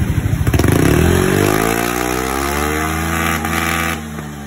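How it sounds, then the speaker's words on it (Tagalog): A Yamaha Aerox V2 motor scooter fitted with an ORBR Power Pipe exhaust revs hard to full RPM, loud and close. The engine note climbs steadily, then holds a sustained high-revving drone before easing slightly near the end. "naka full RPM po yung tinig na yun ng ating pipe"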